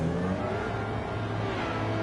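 A racing car engine in Gran Turismo 7 drones at a steady, moderately loud pitch for a couple of seconds, a continuous revving hum without any speech.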